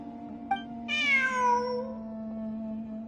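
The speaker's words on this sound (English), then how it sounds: "Look, a cat." A cat in the Genshin Impact video game gives one long, clear, drawn-out meow that falls in pitch, over a steady background hum, preceded by a brief soft tick.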